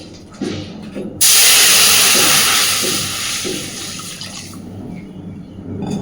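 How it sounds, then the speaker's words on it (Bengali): Water poured into a hot kadai for steaming green banana, a sudden loud hissing rush of steam and splashing that starts abruptly and slowly fades, preceded by a few soft kitchen knocks. "তো এবার এদিকে কড়াইতে আমি দিয়ে দেবো বেশ খানিকটা পরিমাণে জল।"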